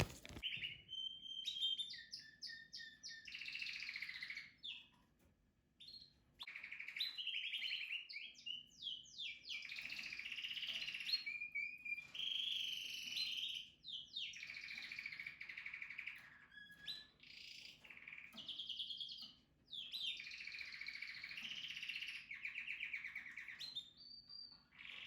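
Spanish Timbrado canaries sing and chirp indoors in a breeding cage, a continuous, fairly quiet stream of trills, rolls and tweets with brief pauses.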